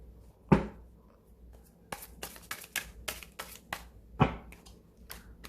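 Tarot cards being shuffled and drawn, a few sharp riffling bursts and light slapping clicks at close range with quiet gaps between them.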